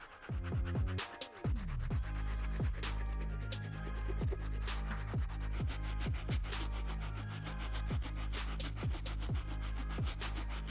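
A stiff-bristle cleaning brush scrubs the sole of a worn Jordan 1 Satin Shattered Backboard sneaker in steady, close rhythmic strokes, a loud continuous rasping rub with repeated pulses and no talking.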